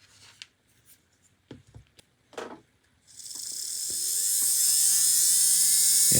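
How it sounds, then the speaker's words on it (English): A small motor on a model train chassis under repair whirs up after a few quiet clicks and handling noises, then runs steadily with a rising, close-up whine to the end. "Yeah, the motor still works perfectly."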